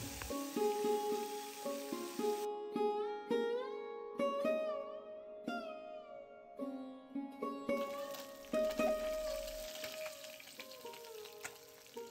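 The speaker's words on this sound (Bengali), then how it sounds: "ঠিক এই রকম ধোঁয়া ধোঁয়া যখন উঠে যাবে মাছগুলো ভালোভাবে ভেজে নেব" Pabda fish fry in smoking-hot mustard oil in a pan, a continuous crackling sizzle with occasional stirring, heard under a tuneful music track.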